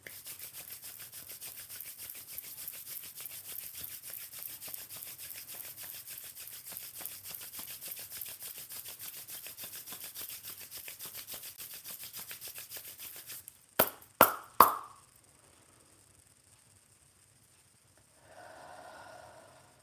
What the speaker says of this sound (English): And just rub your hands together.